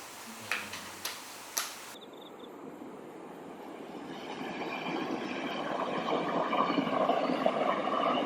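Mugunghwa passenger train on the Taebaek line in the mountains of Gangwon, beginning with a few sharp ticks and then a steady rumble of wheels on track that grows gradually louder and fuller.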